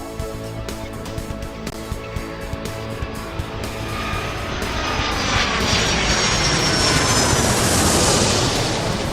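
A jet aircraft engine in Airport Madness 3 runs continuously as the plane taxis, with a rising whine and roar that swells louder toward the end, alone without talk.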